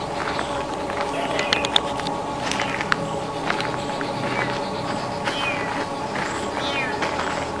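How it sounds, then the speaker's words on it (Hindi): Small kitten meowing faintly several times over a steady background hum, with soft pattering and scuffing sounds in between. "ये बिल्ली का बच्चा ही है ना ये?"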